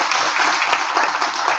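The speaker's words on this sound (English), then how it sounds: "Let's give a round of applause for our candidates tonight." An audience at a 2023 Catoctin school board candidate forum gives the candidates a round of applause, a short burst of dense, even clapping that stays loud throughout with no talk.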